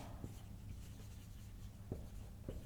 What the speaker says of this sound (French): je vais plutôt écrire ça comme ça